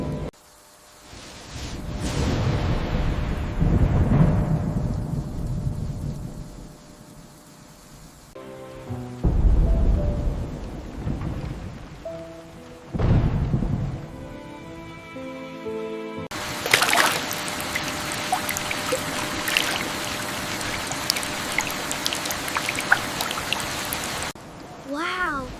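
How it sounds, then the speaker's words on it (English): Stormy night rain in a forest comes in shifting washes, with low rumbling swells that suggest thunder and a steady broadband downpour toward the end, and people talk at times over it. "It is quite stormy tonight, isn't it? I like the sound of the rain."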